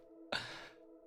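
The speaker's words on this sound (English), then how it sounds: "That is a 50-minute reverb on that sound there." A Sonora Cinematic Aria reverb plugin on a very long setting lets a sudden soft breathy burst bloom into a washy, decaying tail over a faint, steady tonal drone, quiet and without talk.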